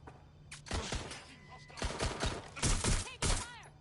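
Bursts of gunfire in the video game Watch Dogs Legion, several sharp shots and short volleys scattered across the moment, mixed with other game effects at moderate level.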